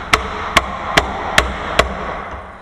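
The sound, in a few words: hammering a loose lock unit off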